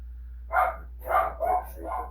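Dogs bark in four short, clear bursts separated by brief pauses, fairly close and loud over a low steady hum.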